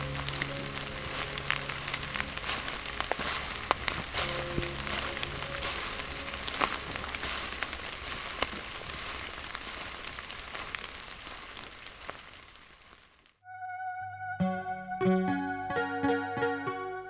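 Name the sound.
rain falling outdoors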